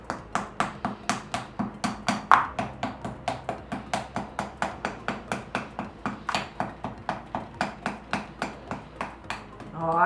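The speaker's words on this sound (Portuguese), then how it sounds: "eu posso bater um pouquinho por dentro" Clay coil pot being tapped to firm it, a quick, regular series of about thirty sharp, close knocks at a steady rhythm, with no clear talk.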